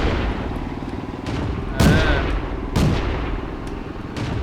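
Tank cannon fire in the game World of Tanks, two heavy booming shots with sharp onsets ringing out over a constant engine rumble and distant battle noise, with a voice speaking in the background.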